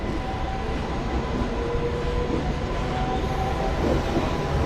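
A passenger train pulling out of Sitafalmandi station on a Secunderabad to Vijayawada run, a steady, close rumble of the carriage with wheel and track noise and a faint whine, continuous without talk.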